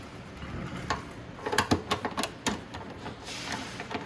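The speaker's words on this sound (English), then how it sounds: "take off this bolt right here." A bolt being taken out on a Venom x22GT 250cc automatic motorcycle, a short cluster of quick metallic clicks and ratcheting taps in the middle, close but fairly quiet against low background noise.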